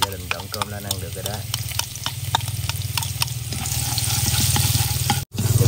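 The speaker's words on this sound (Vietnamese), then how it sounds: "Giờ mình bắt chảo mình xào đậu." Beans stir-frying in a hot pan in a home kitchen, a steady close sizzle with scraping stirs and clinks throughout, growing louder toward the end, with a brief break near the finish.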